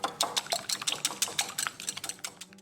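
Beaten egg with cumin, coriander, salt and black pepper is mixed in a bowl: quick, rhythmic utensil taps and scrapes repeat close up, about five per second, then slow and fade out.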